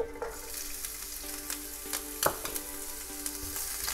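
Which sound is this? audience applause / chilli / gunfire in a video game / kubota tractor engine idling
chilli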